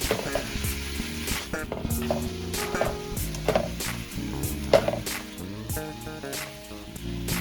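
Onions and seasoned meat sizzle in a skillet while being stirred, with a soft frying crackle under repeated clacks and scrapes of the utensil against the pan and some faint musical tones.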